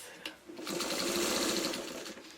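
A sewing machine stitches in the ditch along a seam of a quilted pot holder, a brief steady mechanical whir that starts after a small click and runs alone, close up.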